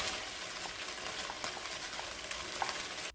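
Wood ear mushroom, egg and day lily stir-fried in a wok, a steady, close sizzle with a spatula scraping and tossing in occasional light clinks, no voices, stopping abruptly at the end.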